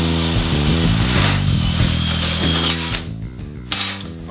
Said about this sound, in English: So let me get the drill.